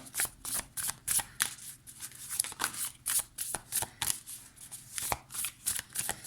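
Tarot cards shuffled for a nine-card spread: a steady run of crisp riffling and flicking, close and clear, repeating in quick bursts with no talking.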